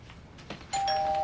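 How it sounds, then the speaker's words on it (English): Doorbell rings once with a clear electronic chime, loud and close, following a short stretch of quiet indoor room noise. "Doorbell's ringing."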